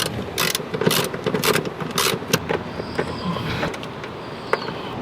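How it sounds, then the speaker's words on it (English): A socket wrench with a 10mm socket works on two 10mm bolts holding a car seat in a GR Corolla, giving a series of loud close ratcheting clicks and metallic knocks in irregular bursts. "These are 2 10mm bolts using a 10mm socket."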